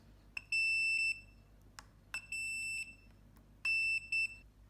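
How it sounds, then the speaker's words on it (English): Three sharp continuity beeps from a multimeter testing conductive shielding tape inside a Squier VM Mustang guitar body, each a steady tone lasting about half a second, with soft clicks of the probes between them in a quiet room. "if this is all taped correctly, you'll hear a beep"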